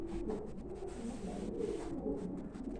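Pigeons coo steadily inside a loft of prized show birds, a continuous low murmur of overlapping calls at moderate distance with no voices.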